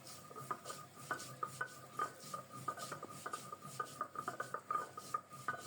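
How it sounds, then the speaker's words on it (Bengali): Raw cumin seeds are ground into a paste by hand, giving quick, repeated rubbing and scraping strokes that are close but fairly soft, in an uneven rhythm. "এদিকে মাছের ঝোলে দেওয়ার জন্য একটু কাঁচা জিরা বেটে নিচ্ছি।"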